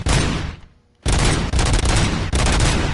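Rapid automatic gunshots from shooting practice in the game Robocop: Rogue City ring out in loud, dense bursts, break off for a brief moment of quiet, then resume in steady volleys.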